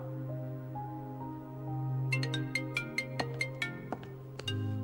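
A phone rings with a melodic electronic ringtone, a series of bright repeated tones pulsing in a quick rhythm over a low steady hum, moderately loud and close.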